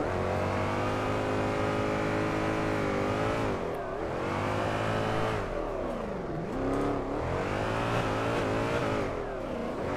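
A V8-swapped Nissan 350Z with angle kits drifting in the video game Drift 21, engine loud and close throughout, sustained high revs dipping and climbing again in repeated swells, with no talking.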